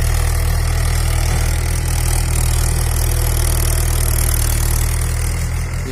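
A tractor engine chugs steadily in a farm field during sowing, a loud close continuous low-pitched throb with no voices.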